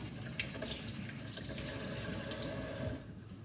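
Fresh herbs are rinsed and swished by hand in water at a sink, giving a steady running-water rush with small splashes throughout, fairly close and without talking.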